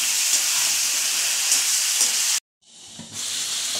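Brinjal and fish fry in a pan with a loud, steady close sizzle and hiss; the sound cuts out abruptly midway, then returns and builds back to a full sizzle.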